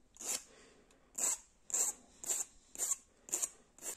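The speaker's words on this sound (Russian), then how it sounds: "Вот прислушаем по звуку, как вот буду обрабатывать напильником" Metal file rasping across a flattened graphite brush, seven short scratchy strokes in a steady rhythm with brief pauses between, close and fairly quiet, no talking.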